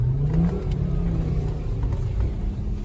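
A Volvo V70's engine revs during an unplanned off-road drive, a steady loud rumble that swells early and then holds throughout.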